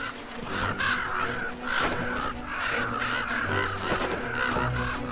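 Harsh cawing from several crows defending a carcass from eagles in a far-northern landscape, steady overlapping calls repeating throughout at close range, loud and continuous, with no people talking.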